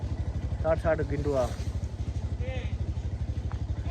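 A motorcycle engine thumps with a steady, rapid pulse close by from start to finish, while someone talks over it for the first part.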